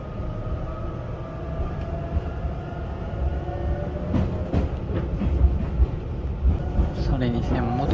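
A former subway car runs on the Tobu Kinugawa Line through a single-track mountain section, giving a steady rumble with rail clicks. High squeals rise near the end, and faint voices sit under the noise.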